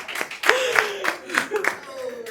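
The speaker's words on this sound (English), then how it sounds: "Clap." Several sharp hand claps land in an irregular rhythm in a training-session room, close and fairly loud, with a person talking over and between them.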